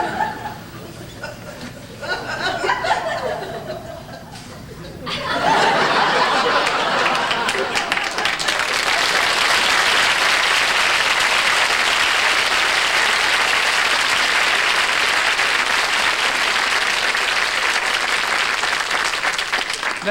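Studio audience at a televised comedy variety show breaks into loud, sustained applause mixed with laughter, building sharply after a few seconds of quieter crowd murmur and holding steady to the end.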